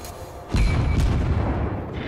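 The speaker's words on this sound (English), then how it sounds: "so I'm going to start shooting at him" Warship guns firing at an enemy ship in a naval video game, a sudden heavy boom followed by a second blast and a sustained rumbling roar, loud and close with no talk.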